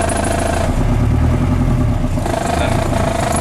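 A restored Land Rover diesel engine without glow plugs runs loud and close, a steady rumbling clatter that swells as it is revved and then settles again.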